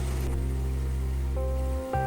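A faucet runs steadily indoors in a furry video game, a constant watery hiss beneath a sustained droning music tone that briefly dips near the end.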